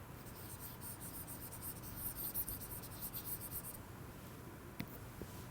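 A marker or pen drawing a diagram by hand during a lecture, faint scratchy strokes in a rapid rhythm over a low steady room hum, with a brief tap near the end.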